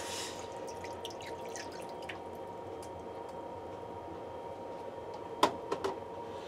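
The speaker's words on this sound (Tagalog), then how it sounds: "So, unahin po natin ang tubig." Water goes into a pan as the base for a homemade teriyaki sauce, with a few sharp splashy drips and squishes near the end over a quiet kitchen background, no speech.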